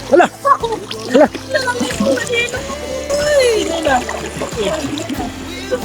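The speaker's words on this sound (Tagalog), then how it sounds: "Natumba si Chris" Someone slips and falls into a shallow stream, with loud splashing and sloshing water mixed with excited shouting voices nearby.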